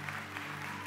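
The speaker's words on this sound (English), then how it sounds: "I'm glad you're clapping." Brief, faint applause from an audience, a soft wash of many hands clapping.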